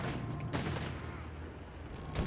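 Dense, continuous gunfire and explosive bursts from a Company of Heroes 3 World War II battle between Wehrmacht and US forces, with sharp loud volleys near the start and end over a steady rumbling barrage.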